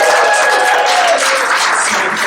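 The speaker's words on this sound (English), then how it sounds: "Give yourselves a big round of applause." A short burst of audience applause and cheering from a comedy show crowd, loud and sustained, with no speech.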